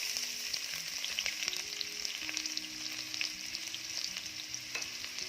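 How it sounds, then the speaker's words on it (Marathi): Finely chopped onion frying in hot oil in a wok, a steady close crackling sizzle with scattered pops and light stirring scrapes throughout, and no voices. "तेल गरम झालं की यामध्ये मी टाकते बारीक चिरलेला कांदा."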